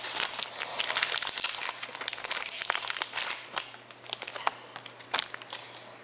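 Plastic wrap and cardboard packaging of a Pokémon Elite Trainer Box crinkle and tear in dense, busy bursts at close range, with sharper crackles scattered throughout and no talking.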